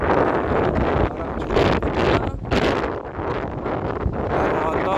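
Strong wind at Melasti Beach in Bali buffets the microphone in a constant loud roar with gusting surges, and a voice is faintly mixed in beneath it.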